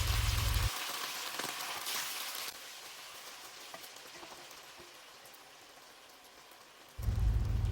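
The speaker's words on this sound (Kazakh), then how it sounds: "Майымыз қызғанда тауығымызды салып 5 минут қуырамыз" Dense sizzling crackle of chicken frying in hot oil, steady throughout, with a low rumble cutting in briefly at the start and end.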